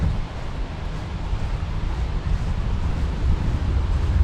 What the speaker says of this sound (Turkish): Hava bir de rüzgarlı ya uçağı götürüyor.